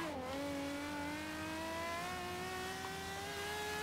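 A Ferrari 599XX at full throttle in Forza Horizon 3, the engine note climbing steadily in a strong, close, high-revving howl after a brief dip at the start, with no talking.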